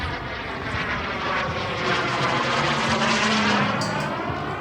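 Engine drone of an Elite Aerosports Picaro RC airplane flying a low, high-speed knife edge pass at a flying field, steady and fairly loud throughout with a slight swell near the end.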